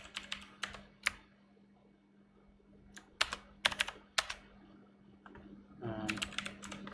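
A computer keyboard on a retro Pentium 4 machine clacks in scattered keystrokes and quick clusters, close and fairly crisp, with a steady hum underneath and a brief murmur near the end.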